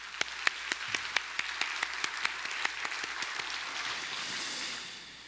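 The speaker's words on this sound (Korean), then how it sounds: "한번 박수 한번 크게 합시다." A church congregation claps during a Sunday worship service, sharp rhythmic hand claps at first that blur into a softer wash of applause and then fade out.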